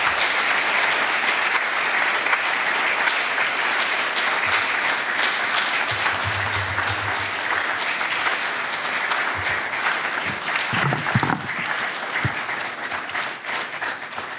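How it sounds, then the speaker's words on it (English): Sustained audience applause fills the room after a lecture on inequity, steady and dense throughout, with a few brief low thumps near the end. "I guess the applause sums it all up"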